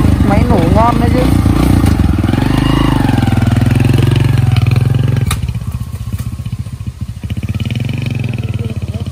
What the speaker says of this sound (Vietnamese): Máy nổ ngon đấy chứ.